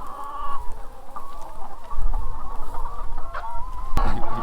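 Production-bred laying hens clucking on a Texas pasture farm, a steady close chorus of overlapping clucks and murmurs with a sharp squawk near the end, loud and without talk.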